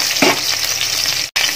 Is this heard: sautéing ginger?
yes